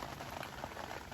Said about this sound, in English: it has begun to rain. Not sure you can hear that on the awning